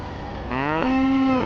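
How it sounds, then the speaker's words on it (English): A cow moos once in a long, steady, drawn-out call that rises slightly at the start and then holds, loud and close, with no talking. "The cow says moo."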